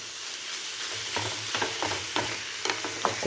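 Steady frying sizzle with repeated scraping strokes of a spatula stirring pork in a non-stick pan, close and moderately loud, no voices.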